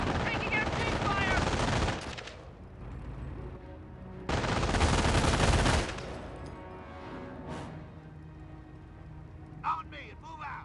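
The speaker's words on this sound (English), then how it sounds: "Taking MG fire." Sustained bursts of machine-gun fire in the World War II strategy game Company of Heroes, with two long loud volleys separated by quieter battle noise and a sharp crack near the end.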